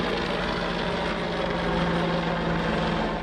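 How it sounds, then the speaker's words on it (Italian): Police helicopter flying overhead on a road patrol near Treviso, a steady loud rotor and engine drone lasting the whole stretch without fading, with no voices. "c'è anche l'ausilio dell'elicottero"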